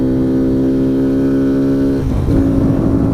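Kawasaki Z125 Pro motorcycle engine revving loudly and steadily up close, its pitch holding high and then dropping sharply near the two-second mark before settling into a rougher, lower rev.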